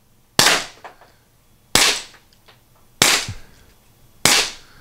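A modified HDP50 pepperball gun fires four sharp, loud shots at even intervals of roughly 1.3 seconds. Each crack decays quickly into near silence before the next, and no one speaks.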